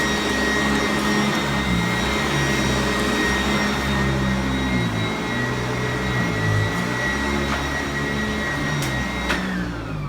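A vacuum cleaner drones steadily over carpet at close range, its motor whine constant with a faint rhythmic rumble as the head is pushed back and forth, no voices present.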